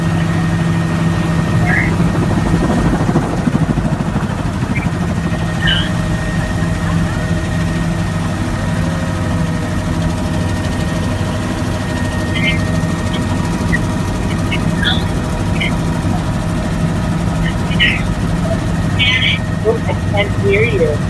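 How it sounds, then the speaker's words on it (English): Steady, loud droning helicopter engine noise in flight with a constant low hum throughout, with faint chirps now and then. "Look, I'm in a helicopter."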